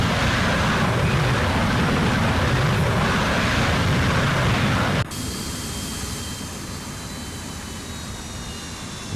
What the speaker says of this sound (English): My MiG-21 coming around behind it